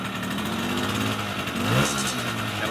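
A small 1974 Honda MR50 motorcycle engine runs close by, rising in a short rev before settling back down.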